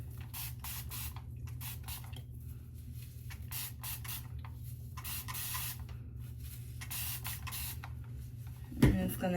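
A spray bottle of water mists onto a quick weave being taken down, the short hissing spritzes coming in quick repeated bursts up close, followed by a brief louder knock near the end.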